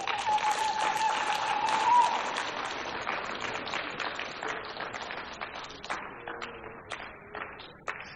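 Church congregation applauding during a live prayer and fasting service, a dense patter of many hands in the first seconds that thins into scattered, fading claps, with a sustained musical tone underneath early on.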